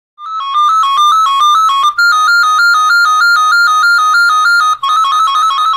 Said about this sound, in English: the Amplidate 350 will ring loudly with one of the many ringtones available